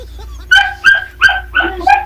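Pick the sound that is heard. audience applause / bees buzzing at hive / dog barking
dog barking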